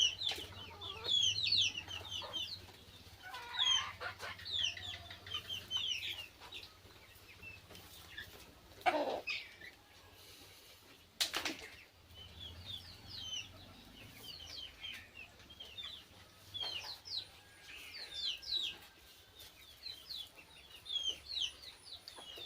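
Desi chickens cluck and chatter on a poultry farm, with many overlapping calls and occasional wing flaps. The sound is steady and fairly close throughout, and no one speaks.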